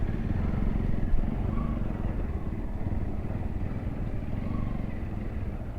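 An NS200 motorcycle engine runs with a steady, close, low throbbing rumble that holds for several seconds, on a bike whose rider fears it may be about to give out; no one speaks.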